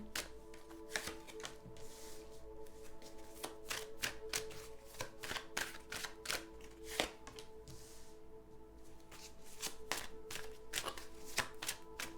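Tarot cards are shuffled and laid out close by, with quick papery riffles and sharp slaps of cards landing on a surface in an uneven rhythm, no talking.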